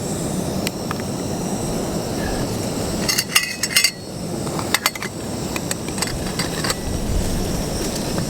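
An OEX Vulcan gas camping stove burner at full flame in the woods gives a steady, close roaring hiss, with scattered metallic clinks and knocks on top.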